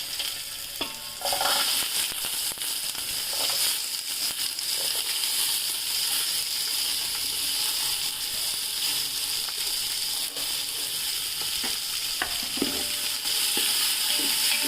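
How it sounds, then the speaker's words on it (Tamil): Onions, finely chopped, sizzle and fry in a hot pan while being stirred for mutton thikkadi, a continuous hiss with occasional scraping clatters. "வெங்காயத்தை நல்லா வதக்கிடுங்க."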